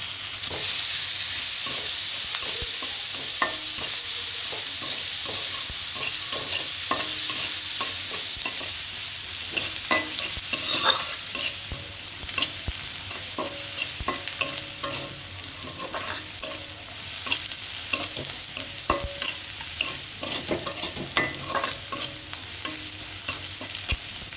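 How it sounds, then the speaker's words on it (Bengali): Six tablespoons of chopped onion fry in the leftover oil of a kadai, a loud, steady sizzle with frequent stirring scrapes throughout and no voices. "এবার কড়াইয়ের অবশিষ্ট তেলের মধ্যে 6 টেবিল চামচ পেঁয়াজ কুচি ছেড়ে দিলাম"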